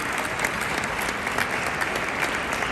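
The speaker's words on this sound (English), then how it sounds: "please start applauding them as I do so" Sustained, dense applause fills the room at the UN Correspondents Association awards ceremony, a steady wash of many hands clapping at an even level throughout, with no speech over it.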